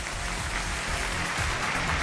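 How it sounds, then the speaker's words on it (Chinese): Studio audience applause welcoming a couple onto a Chinese relationship talk show stage: dense, steady clapping from many hands filling the room at even loudness throughout, with no speech over it. "掌声有请这一对"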